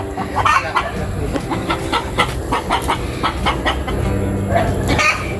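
Chickens cluck and fuss on a rural Philippine farm lot, a steady clamor of short calls repeating over continuous outdoor background noise, fairly close and with no one speaking.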